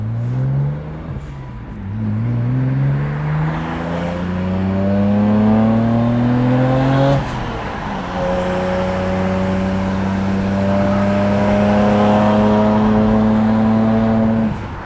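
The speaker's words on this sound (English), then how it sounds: "I forgot how loud that blow-off valve is." A turbocharged BMW 135i engine revs up loudly in rising sweeps, then a brief sharp whoosh from the blow-off valve before the engine drones on.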